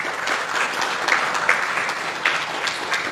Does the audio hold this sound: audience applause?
yes